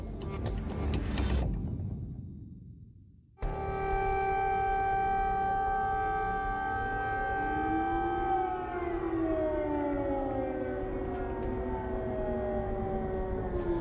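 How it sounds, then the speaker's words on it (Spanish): A loud, sustained air raid siren in Ukraine wails with steady tones, its pitch sliding and wavering as it drones on. "Las sirenas de alerta en Ucrania ya no son indiferentes para nadie en el mundo."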